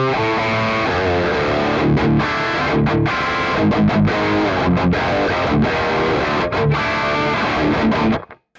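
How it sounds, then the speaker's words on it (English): A PRS CE 24 electric guitar in drop D plays through a high gain head with a noise gate in the effects loop, loud chugging distorted riffs with sharp muted stops, ending abruptly. "Yep, just a pretty simple high gain tone."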